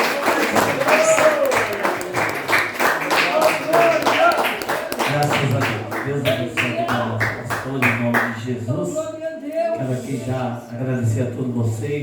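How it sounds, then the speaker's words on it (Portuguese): Worshippers in a Portuguese-speaking church clap together in a loose, rhythmic burst of applause, individual claps distinct and close, with voices and singing mixed in before the clapping thins out. "Aplauda o Senhor Deus nessa noite."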